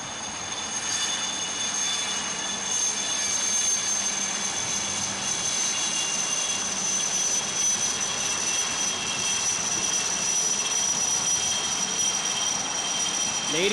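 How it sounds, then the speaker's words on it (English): Three Chetak helicopters of a naval fleet support squadron pass in arrowhead formation at a Navy Day ceremony by the Gateway of India, a sustained loud engine roar with whining turbine tones that holds steady for over ten seconds. "Close behind are 3 Chetaks of the 321 Fleet Support Squadron in an arrowhead formation with Commander Kulkarni"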